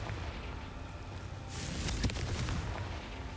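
A Confringo blasting curse from Hogwarts Legacy bursts partway through, a rumbling magical explosion swelling out of low background noise with a sharp peak and fading crackle.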